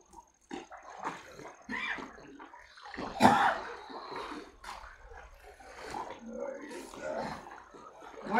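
Clear water splashes and sloshes in bursts as people swim outdoors, with talking voices mixed in throughout and one louder splash partway through.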